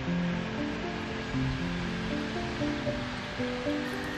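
A man-made waterfall at Lake Redstone pours with a constant, moderately loud rush of water, and faint tonal sounds drift through the background.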